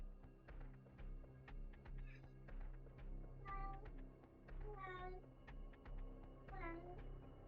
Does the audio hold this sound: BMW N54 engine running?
no